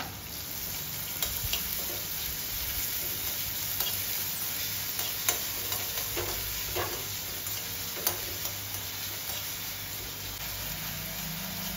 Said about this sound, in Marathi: कांदा आपण यामध्ये टाकायचा आहे, छान असा परतून घ्यायचा आहे